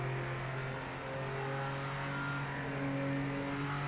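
A car engine in a racing video game holds a steady loud hum with tonal whine and rises slightly in pitch as it accelerates, with no talk over it.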